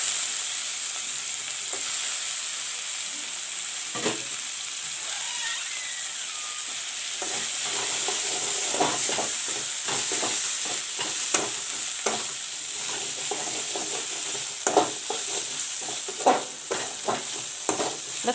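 Cauliflower stalks fry and sizzle in a pan of browned masala for a village-style cauliflower and potato curry, with a steady frying hiss and repeated scraping stir strokes that grow busier toward the end.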